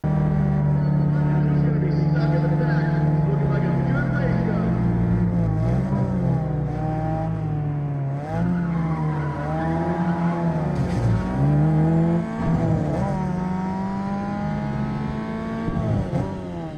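Nissan 240SX fitted with a truck engine racing in Need for Speed ProStreet on PS2, its engine note droning steadily and loud throughout with repeated rising and falling revs as it shifts gears.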